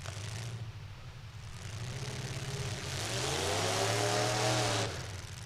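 Street stock race car number 595 at a fullsize street stock event, its engine roaring loud and close with rising revs, one or more other race cars droning in the background.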